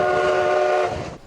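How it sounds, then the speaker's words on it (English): The 1880 Train, a South Dakota steam excursion train, gives a loud sustained horn or whistle blast with a rich steady tone that cuts off and fades into rumbling rails, with no talking. "All aboard the 1880 train for a scenic ride down the same tracks where steam"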